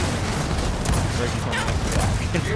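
Gunfire from the video game Gears of War 4: a dense, continuous barrage of shots and booms, loud and steady throughout, with the game's battle noise filling the clip.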